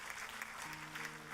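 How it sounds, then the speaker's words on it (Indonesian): A church congregation applauds in a hall, a steady spread of clapping at moderate distance with a faint sustained instrumental tone entering partway through. "Kita kasih tepuk tangan saudaraku."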